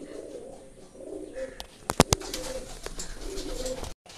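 A Madras pigeon coos softly in low, repeated murmurs, with a few sharp clicks and handling noises midway, close and faint overall.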